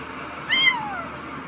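A single short kitten meow, rising and falling, close and fairly loud against a quiet room background.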